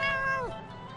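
A cat gives one close, clear meow that slides downward in pitch at the end, heard alone.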